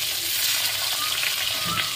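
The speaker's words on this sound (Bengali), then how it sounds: "মাছগুলো লাল লাল করে ভেজে নেব।" Pieces of shal and ting fish fry in hot oil in a kadai, giving a steady, dense sizzle and crackle that runs close and loud for the whole clip with no voices.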